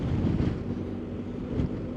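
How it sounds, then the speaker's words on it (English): Steady, heavy wind roar buffets the microphone while riding a BMW R1250GS motorcycle along the Scottish west coast, a continuous low rumble with no talking. "and it is a bit windy"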